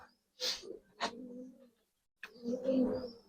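A Giribaz high flyer pigeon, a red bird of good bloodline, coos softly in a few short low phrases separated by quiet pauses, close by.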